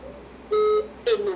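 A Samsung Galaxy S6 call to a blocked number returns a busy signal: two short electronic tones, about a third of a second each, separated by a brief gap, clear over faint background noise.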